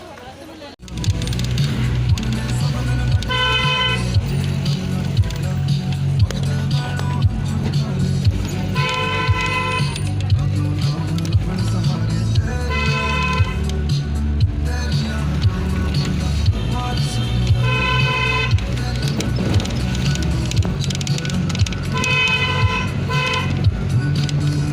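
A car moves through busy traffic while horns toot repeatedly in a regular pattern over a constant engine and road rumble, and people can be heard talking in the background throughout.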